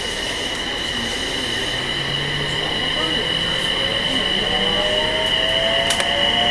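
A JR East Series E721-500 electric train in motion, heard from inside as a steady, continuous rumble of wheels on rail with a constant motor hum and a faint rising whine, loud and unbroken throughout.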